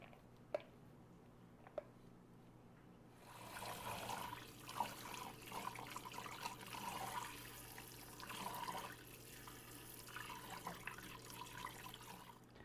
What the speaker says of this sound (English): It's important to lift the berries up out of the water as opposed to just dumping them into the pot